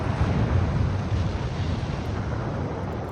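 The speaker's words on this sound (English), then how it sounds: "I'm getting torpedoes off, which is the important part" Torpedoes launching from a warship in the naval battle game Ultimate Admiral Dreadnoughts, a steady loud low rushing roar like wind and water, with no voices.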